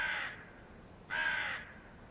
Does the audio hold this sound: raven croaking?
yes